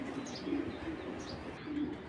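Silver pigeons in a loft coo softly, with low repeated throaty coos rising and falling over a faint steady background, fairly quiet and without talking.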